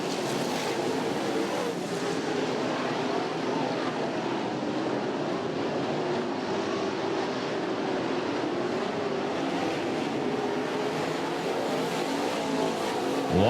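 Modified race cars roar around a dirt oval during a 75-lap main event at the East Bay Winter Nationals, a dense, continuous engine drone with a distant, wind-like wash of crowd and track noise.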